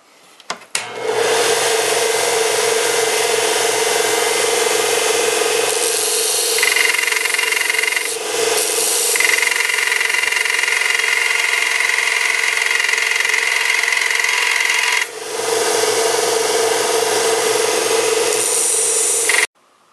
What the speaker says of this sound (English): I think the belt sander will be easier to flatten off this bottom part